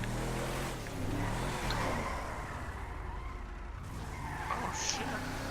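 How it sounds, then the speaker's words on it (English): Pickup truck drifting on a street in GTA V, steady engine roar with continuous tire skidding and squeal, loud and sustained throughout. "let's do some street drifting"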